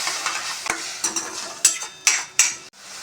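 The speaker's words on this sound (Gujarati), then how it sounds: "મસાલા બળે નહીં એ માટે થોડું પાણી આપણે ઉમેરી દઈશું." Spice masala with red chili powder sizzles in a pan for green garlic Mysore bhaji as water is added, with sharp bursts of hissing and several stirring clatters over a steady fry.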